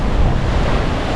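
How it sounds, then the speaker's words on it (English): Waves surging in at a beach in the seaport city of Gijón in northern Spain at strong incoming tide, a continuous loud wash of surf mixed with heavy wind buffeting the microphone. "A little windy right now, and the tide is really coming in hard"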